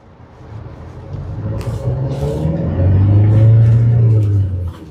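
A 2020 Hyundai Creta SX diesel pulls away in first gear, its engine note swelling from a low rumble into a strong, rising rev that peaks loudly before easing off, heard from inside the car.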